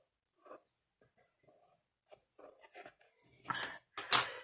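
A pen writes marks on black paper during a scrapbooking project, giving light, scattered scratchy strokes that build to a couple of louder scribbles at the end, close and quiet.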